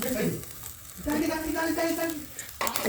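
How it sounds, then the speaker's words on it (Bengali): Ground cumin and chili paste fry in white oil with a loud, continuous sizzle that drops briefly then surges again, close up; a voice can be heard faintly beneath the crackle. "আমি এটা নামিয়ে রেখে যে বাটা জিরে মরিচ ছিল সেই জিরে মরিচটাকে ভেজে দেব।"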